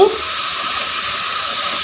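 Half a tumbler of water is poured into frying masala for a chicken thanni kuzhambu, giving a short splash and then a loud, steady hiss and sizzle.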